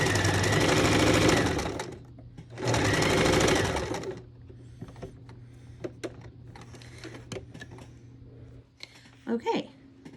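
A sewing machine stitches fabric pieces together in two loud close bursts of rapid stitching, followed by quieter handling clicks and a voice speaking.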